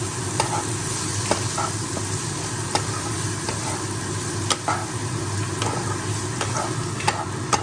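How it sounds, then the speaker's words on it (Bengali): Chopped onion and capsicum fry in hot oil with a steady, close sizzle. A spoon scrapes and taps against the pan at irregular intervals, and no voices are heard. "ভালো করে এটাকে আমি ভেজে নেব হালকা করে আগে।"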